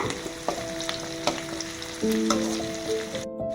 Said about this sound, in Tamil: கருவேப்பிலையும் பச்சை மிளகாயும் ஆட் பண்ணிடலாம். நல்லா வதக்கி விட்டுருங்க.